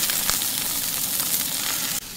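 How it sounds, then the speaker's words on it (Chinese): Oysters frying in hot oil in a pan, a steady close sizzle and hiss with small crackles, continuous and fairly loud, with no talk over it. "油热以后啊，咱把生蚝啊煎一下。"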